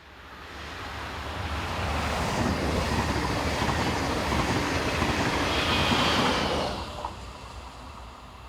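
A Class 146 electric locomotive hauls an intercity service toward Leipzig, its rumble swelling as it passes close by, holding a steady roar with rhythmic wheel clatter, then fading away.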